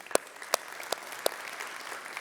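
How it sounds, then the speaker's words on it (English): Scattered applause from a conference audience, a few sharp claps standing out over a soft, thin background of clapping; fairly quiet and distant, with no voices. "Let's give them a big round of applause, too."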